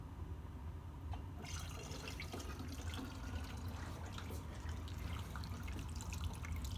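Kombucha poured through a funnel during home brewing, a steady close trickle and splash of liquid running on without a break.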